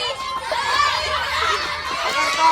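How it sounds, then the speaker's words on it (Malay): A classroom of children at a tajwid lesson cheer and shout together for their classmates, a continuous lively crowd noise of young voices with a teacher's voice briefly among them. "Sedia bagi sorakan dekat kawan-kawan"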